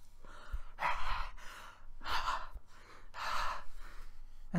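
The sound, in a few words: voice imitating accidentally drinking vinegar instead of water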